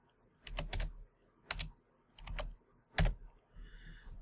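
Bursts of computer keyboard typing, clustered keystrokes in four or five short runs separated by pauses, close and fairly quiet with no voices.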